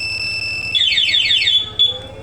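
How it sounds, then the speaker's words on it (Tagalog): A motorcycle anti-theft alarm on a scooter chirps in rapid repeating warbling sweeps, loud and close, followed by a couple of shorter beeps. "Ayan, mag-alarm yan."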